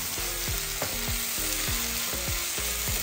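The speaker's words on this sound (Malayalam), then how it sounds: "അപ്പോൾ ചെറിയ തീയിലിട്ട് ഇടയ്ക്കിടയ്ക്ക് ഒന്ന് ഇളക്കി വെച്ചു കൊടുക്കാം." Tomatoes frying for biryani sizzle steadily in a pan, with a spoon stirring and scraping in repeated strokes close by, no voices.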